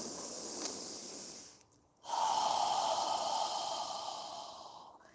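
Calm yoga breathing: a soft nasal inhale, a brief pause, then a long, steady, airy exhale through the mouth, close and alone.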